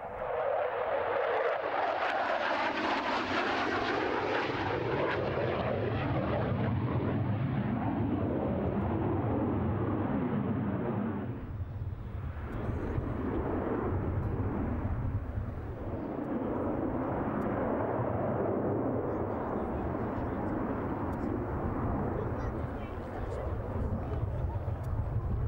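An F-16 fighter jet roars through a flying display, its loud engine noise sweeping in pitch and intensity as it passes and manoeuvres at high and low speed, with a commentator talking over it.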